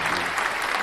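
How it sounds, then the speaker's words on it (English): Applause from a live podcast audience, a brief dense burst of clapping heard alone and fairly close. "Round of applause."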